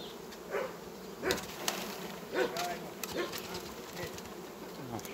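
Honeybees buzzing steadily on a hive frame during a colony inspection, a dense close hum running throughout with occasional louder passes of individual bees.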